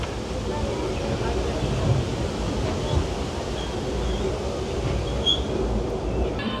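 The Disneyland Railroad train rolls along with a steady, continuous rumble and clatter heard from on board, with faint voices mixed into the background.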